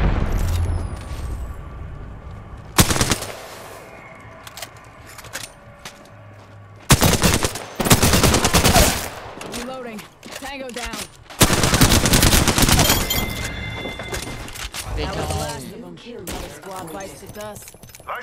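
Bursts of automatic gunfire from the video game Apex Legends, loud rapid volleys separated by quieter stretches, with sharp impacts and a voice talking between the shots.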